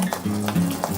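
Omelette with tomatoes frying in a properly heated wok, a steady close sizzle with a few short scraping stirs over about a second, no voices.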